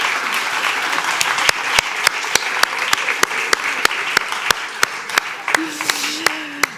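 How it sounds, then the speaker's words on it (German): Conference audience at a media event claps in a fairly even rhythm, with crisp distinct claps repeating steadily and a brief voice emerging near the end. "jetzt erstmal Applaus für das."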